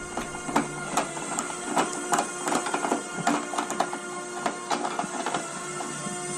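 A 10mm socket turning out a fairing screw on a Yamaha YS125 motorcycle, giving a close run of quick, even ratcheting clicks that continues steadily throughout, with no voices.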